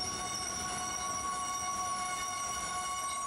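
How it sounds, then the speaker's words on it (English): A sustained high-pitched metallic squeal with steady shrill tones over a rumbling, noisy background, like train brakes grinding, continuous and fairly loud. "one person believes that these are the brakes of a train"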